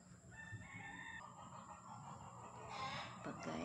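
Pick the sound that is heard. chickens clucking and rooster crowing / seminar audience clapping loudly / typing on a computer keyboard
chickens clucking and rooster crowing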